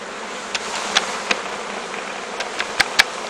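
Honey bees buzzing on a hive frame during queen grafting work, a steady close swarm hum with scattered louder individual buzzes flicking past near the ear, no talk.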